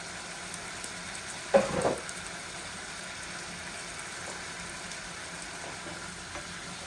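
Pabda fish are laid into hot oil in a pan alongside a boal fish curry with potatoes, giving a soft, steady sizzle with one brief louder splash-and-crackle as the fish goes in, then settling back to a quiet fry.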